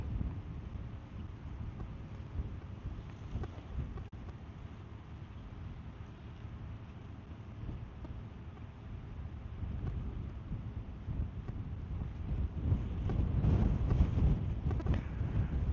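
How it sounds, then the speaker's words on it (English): Night wind gusts ahead of a rainstorm at an outdoor fishing spot, a continuous low rumbling roar buffeting the microphone that swells stronger toward the end, with no voices. "looks like the wind's supposed to die down after this rainstorm goes by"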